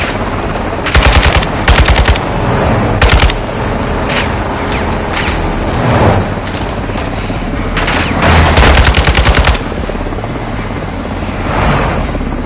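Machine gun fire in the video game Call of Duty Modern Warfare 2, with loud rapid bursts and sustained volleys over a dense battle din of explosions and rumble, continuing for several seconds.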